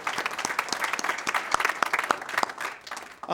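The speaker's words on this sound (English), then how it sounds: "Let's give Jerry Lynn a round of applause" Applause at a city council meeting, a modest group in a chamber clapping with distinct individual claps audible, lasting about three seconds before fading.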